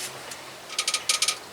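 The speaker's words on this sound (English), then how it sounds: "It's just a 9/16 wrench." A 9/16 wrench ratchets during a Husqvarna Z254 mower repair: a faint click or two, then two quick bursts of three sharp metallic ratchet clicks, close and moderately loud over a quiet shop background.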